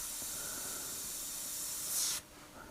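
A Harder & Steenbeck Evolution CR Plus airbrush with a 0.45 mm nozzle sprays thin paint at low pressure, a steady soft hiss that swells near the end and then cuts off abruptly.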